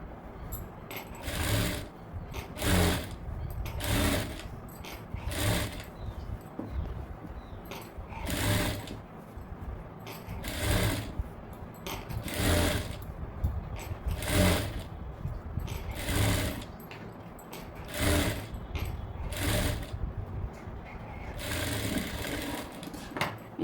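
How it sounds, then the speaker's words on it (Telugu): Sewing machine stitching a high-neck blouse in short repeated bursts, each run of fast mechanical clatter separated by brief pauses, close and moderately loud. "ఇక్కడ ఈ చివరిని ఏదైతే ఉంది ఇక్కడ ఒక స్టిచ్ అయితే వేసుకోవాలన్నమాట"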